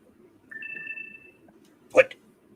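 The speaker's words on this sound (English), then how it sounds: "My phone going, hey, I'm getting low on juice." A phone's low-battery alert: two short overlapping electronic tones hold steadily for under a second, followed by a brief sharp chirp, heard over a faint room murmur.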